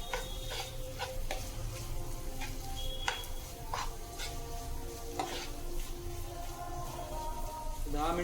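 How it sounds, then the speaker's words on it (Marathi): A spoon stirs dried bangda fish chutney with kokum in a pan, scraping and clinking in irregular taps over a low, steady sizzle, fairly faint throughout. "ढवळून घेऊया."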